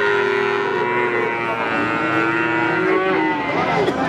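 Cattle moo at a busy calf market, long loud lowing calls layered over dense crowd noise and background chatter, continuous throughout.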